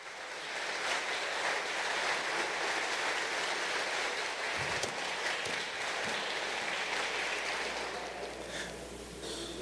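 A church congregation applauds loudly and continuously, a dense wash of many hands clapping that holds steady for several seconds before easing slightly toward the end.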